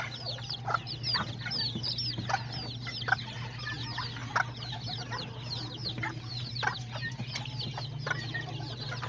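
Hens and roosters cluck steadily and repeatedly at a farm, a busy chorus of overlapping calls over a constant low hum, with no talking.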